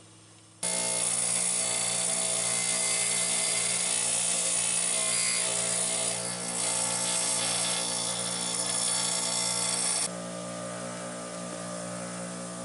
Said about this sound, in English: I'm going to go ahead and do that with just a couple of passes here on the grinder.